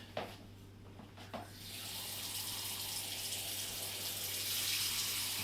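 A bathroom faucet fitted with an aerator runs after a few faint clicks, the soft even hiss of the stream swelling slightly and holding steady, quiet and close, with no voices.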